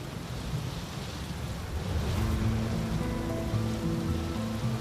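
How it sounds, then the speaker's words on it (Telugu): Steady rain falling outdoors in a town lane, a dense continuous hiss with low rumbling beneath, fairly loud and even throughout, no voices. "But yeah it's raining right?"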